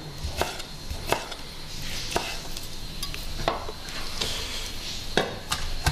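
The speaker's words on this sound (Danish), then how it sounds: "Det handler om faktisk at få det hakket meget fint" A knife chops cod neck finely on a board for fish cakes, with irregular close taps and scrapes over a faint background hiss.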